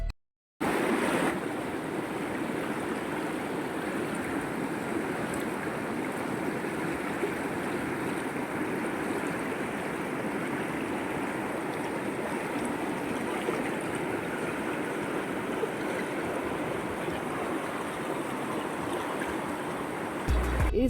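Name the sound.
fast-flowing river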